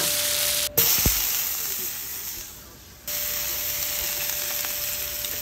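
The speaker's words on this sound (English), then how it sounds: "A little olive oil, and then we're going to put these in there and saute them." Olive oil in a pan hisses loudly as shrimp go in to sauté, with a brief clunk partway through and a short dip in the noise before the steady sizzle resumes.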